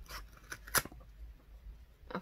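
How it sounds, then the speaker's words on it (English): Scissors snip through a subscription box in a few short, sharp cuts near the microphone, with quiet pauses and faint rustling between them. "but we're gonna use the scissors."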